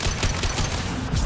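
Gunfire in a Mass Effect 2 firefight, a dense continuous burst of shots and impacts, loud and close with no voices.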